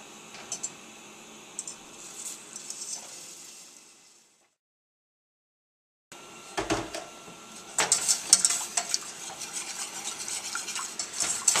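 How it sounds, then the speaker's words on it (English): A whisk works milk in a pot on the stove for a mac and cheese white sauce, with light metallic ticks and clinks that build into brisker, busier strokes after a short silent gap. "Gonna whisk it up, get that milk getting a little steamy before we add our cheese in"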